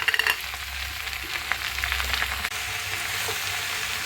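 Leafy greens tempered with green chilli and onion, sizzling and frying in a pan, a close crackling hiss with a few stirring scrapes, no talk.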